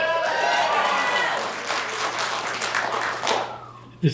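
Enthusiastic clapping and cheering fill a movie theater at the Joy Cinema, strong at first, then thinning and fading out around four seconds, ending with a brief thump.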